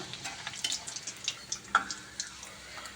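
Rice flour papads puff up as they fry in a shallow layer of hot oil, making a soft, crackling sizzle with scattered small pops and ticks at moderate loudness; no voices.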